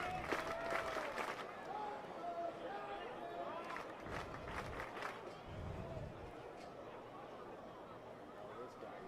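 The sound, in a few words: crowd cheering at a baseball game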